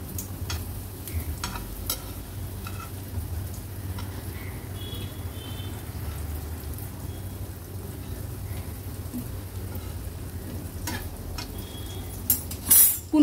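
Suran (yam) slices sizzle in a pan as they are turned over one by one, a steady, close crackle of frying with intermittent scraping and utensil taps, ending in a few louder knocks.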